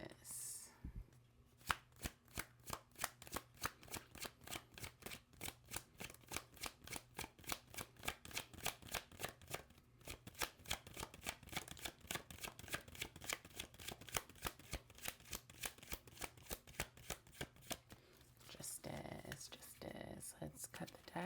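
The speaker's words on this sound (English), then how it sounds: "Let's cut the deck and pull for a card." A deck of tarot cards shuffled in a long, steady run of rapid, crisp flicking riffles at close range, ending with a short pause and a few final shuffles.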